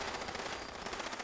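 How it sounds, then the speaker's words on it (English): A non-player character in a video game fires a gun repeatedly, making a short, loud, rapid string of shots with no pause and no talking. "that NPC has been dumping mag after mag after mag after mag"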